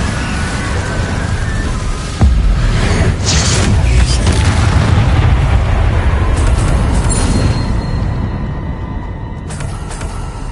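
Incendio fire spell blast in Hogwarts Legacy, a sudden heavy boom followed by a long, loud roaring rush of flame that holds steady for several seconds before thinning out, with a few crackles near the end.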